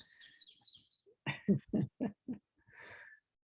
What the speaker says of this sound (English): I'm pretty sure you can hear the birds